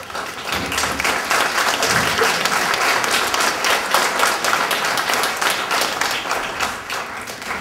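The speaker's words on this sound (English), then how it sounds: "thank you very much for that applause" Sustained audience applause fills a hall at a university event, dense steady clapping from many hands continuing throughout without a break and no talk over it.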